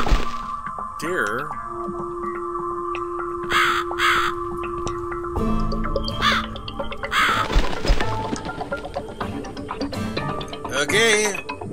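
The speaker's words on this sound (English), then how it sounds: "Follow the crow." Crow caws in The Cat Lady video game, woodland house setting: several loud, harsh calls spaced through the clip over eerie in-game ambience and a steady drone, with occasional clicks and ticks.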